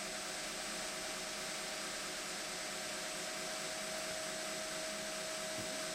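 A knife tang is ground on the platen of a belt grinder, a constant roaring whine with a steady high tone that holds without a break at a moderate distance.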